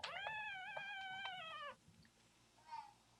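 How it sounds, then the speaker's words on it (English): A baby fox kit calls with a high, wavering, cat-like cry lasting over a second, then a shorter faint call follows after a pause, heard up close in a quiet setting. "That's the sound of a little baby fox."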